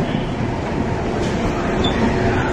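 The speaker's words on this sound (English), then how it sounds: "This is a regular train, not a bullet train." Regular passenger train in Japan, not a bullet train, heard from inside as a steady loud rumble of wheels and carriage noise throughout.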